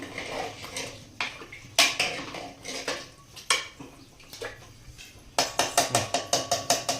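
A spoon clanks and scrapes against a metal pot while chicken curry with water is stirred, a series of sharp irregular knocks that speed into a quick rhythmic run near the end.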